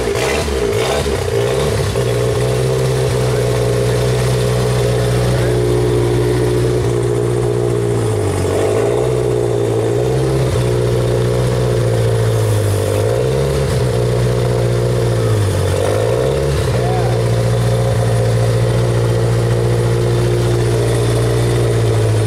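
A Genie boom lift's engine runs loud and close at a steady idle, with its droning note sagging and recovering a few times, and no talk over it.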